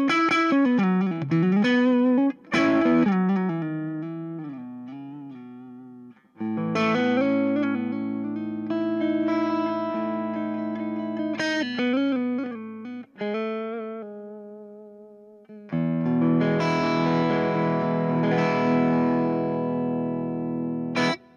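ESP E-II Horizon NT-II neck-thru electric guitar played through a Mojohand Effects Rook drive pedal with the neck humbucker coil-tapped, giving loud overdriven chords and sustained riffs with short pauses between phrases.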